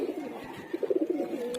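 Male pigeons coo in rhythmic, throaty bursts close by, several soft rolling calls clustered in the middle of a brief stretch with a little background murmur.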